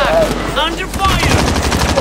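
Rapid automatic gunfire in the Warzone shooter game, loud, close bursts of shots rattling continuously, with brief electronic game tones mixed in.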